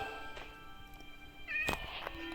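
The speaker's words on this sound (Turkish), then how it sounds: "Kedi var galiba." A Minecraft cat meows in-game, a short mewing call rising over steady game ambience and background music, with a brief second cry following.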